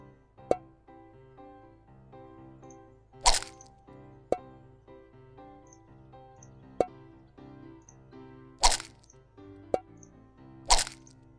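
Eggs cracking in the Cooking Simulator video game while making a maple syrup cake, three sharp crunchy cracks spaced several seconds apart over light background music with small clicks.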